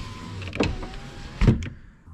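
A car's power window motor whirs briefly twice as the switch is bumped up, close and fairly loud, each burst ending with a short mechanical clunk.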